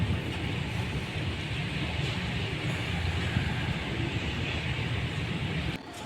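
A train rolling past a railway level crossing where traffic waits at the closed gate, heard as a steady, loud, broadband rumble and rush that holds throughout and drops off slightly at the very end.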